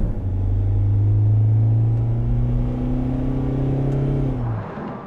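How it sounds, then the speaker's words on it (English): A van engine revs steadily higher for several seconds under automatic kickdown, a loud droning rumble that climbs, then drops off abruptly as the automatic transmission shifts. "the kickdown, which lets the engine rev up pretty high before it actually shifts."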